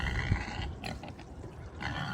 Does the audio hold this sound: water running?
no